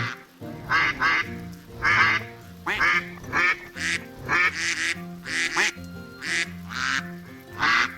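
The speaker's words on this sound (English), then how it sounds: "That is an angry duck." An angry duck in the video game Stonehearth quacks repeatedly in rapid, insistent bursts over a soft game music bed, fairly close and moderately loud.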